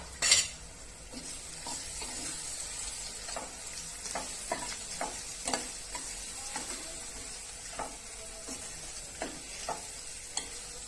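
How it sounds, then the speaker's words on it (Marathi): Onion and tomato cook with garam masala and chili powder in a pan, giving a quiet sizzle broken by scattered clinks and scrapes of a spoon stirring. "आता याला एक मिनिट आपण तिखटाला शिजू देणार आहोत"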